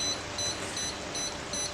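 An ROV thruster motor's electronic speed controller beeps in settings mode, short high electronic tones repeating at a steady rhythm over a constant hiss, close and clear with no talk.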